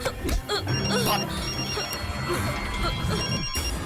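A phone rings steadily through a busy, noisy scene, its electronic ring pattern repeating under background commotion.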